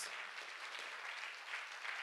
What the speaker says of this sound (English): let's clap for Master Jesus